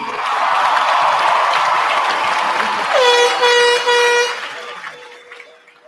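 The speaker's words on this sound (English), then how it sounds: "Can we give one more amazing round of applause to Miss Tweed?" Loud crowd applause and cheering at a high school graduation, joined midway by a blaring air horn that sounds repeatedly for over a second before the noise dies away, leaving a faint lingering tone.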